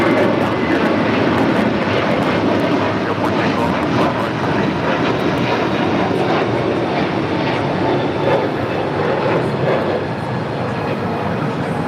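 A Delta Airlines A321neo jet takes off at LAX with a loud, sustained engine roar that fills the whole stretch and stays steady and broad.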